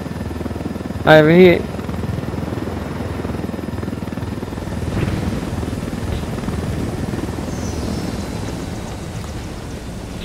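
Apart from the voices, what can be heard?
helicopter flying in video game Ghost Recon Wildlands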